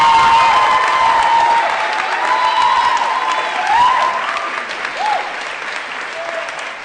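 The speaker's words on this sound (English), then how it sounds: "I think they do deserve one more round of applause." Loud applause and cheering for graduating seniors fills a high school graduation hall, a dense, sustained roar with whoops and shouts rising above the clapping.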